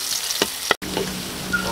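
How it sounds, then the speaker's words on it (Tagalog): Ginger, chili and garlic sautéing in a hot pan, a close, continuous frying sizzle with a couple of brief stirring clinks, heard alone without voices. "Magigisa na tayo ng ating luya at sili"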